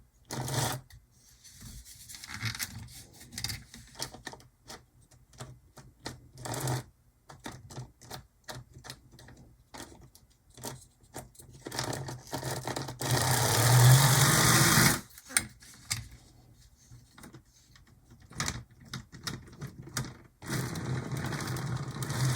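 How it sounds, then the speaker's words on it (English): An HO scale mid-1950s Revell Santa Fe model diesel locomotive running noisily on track, a close rattling, clattering mechanical whir with rapid ticking, louder buzzing surge near the middle and brief stops. "goodness knows that is not the quietest locomotive ever"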